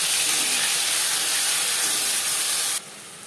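Onion and garlic paste sizzles loudly in hot refined oil in a kadai, a steady dense hiss that cuts off sharply near the end.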